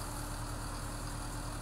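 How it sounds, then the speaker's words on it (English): A tractor's engine idles steadily in Farming Simulator 23, a low continuous mechanical drone with an even rumble and no voices. "Let me jump in the blue tractor."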